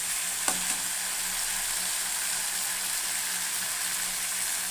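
Small halved fish frying in a spicy masala gives a loud, constant sizzle with stirring, plus one brief knock near the start and no talking.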